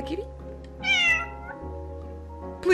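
Cat meows from the Calico video game, several short calls over soft background game music, one louder meow near the end.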